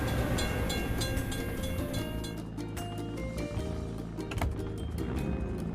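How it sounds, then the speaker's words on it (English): A cartoon train rumbles steadily past a closed level-crossing gate, a continuous loud rolling clatter of wagons that fills the whole stretch without speech. "We have to wait for the train to pass."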